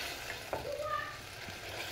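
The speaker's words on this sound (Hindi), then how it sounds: "पोठा माछटा फ्राई करब" Small puti fish frying in oil in a pan, giving a steady close sizzle with faint crackles and a brief stirring clatter, no talk over it.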